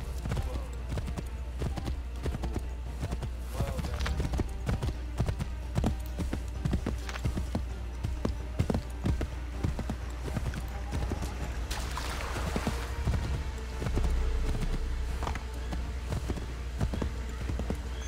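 In Assassin's Creed 3, a horse's rapid hoofbeats clip-clop steadily throughout, with a game-like music bed and occasional muffled voice over the top.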